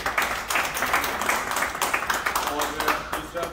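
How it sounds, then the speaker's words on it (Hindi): Audience clapping at a flood relief community event, a crowd's scattered applause that rises and falls in waves, with voices mixed in. "तो तालियां भी हो जाए"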